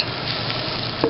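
Onions fry in a pan until light golden, giving a steady close sizzle with a stirring scrape near the end and no talk.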